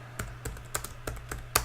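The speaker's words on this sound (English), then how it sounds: "we'll just start typing something" Fingers type on a computer keyboard while entering code in an editor, producing sparse, irregular clicks about every quarter second over a low steady hum.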